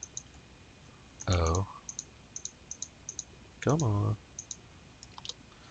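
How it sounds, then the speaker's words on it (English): Computer mouse clicking, a run of small sharp clicks at an uneven pace, close and fairly clear, with two short bursts of a person speaking breaking in. "you know you're clicking in that right spot"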